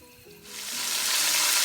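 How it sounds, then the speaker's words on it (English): Chicken browning in olive oil in a preheated pan, the sizzle rising sharply from quiet to a loud, steady hiss that holds with no talk. "You're gonna hear that sizzle. We're gonna brown this chicken."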